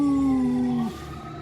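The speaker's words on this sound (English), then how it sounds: "let me wait for this siren to go by" A fire engine siren heard outdoors drones in one long steady tone that slowly drops in pitch, then cuts off, leaving faint background noise and no speech.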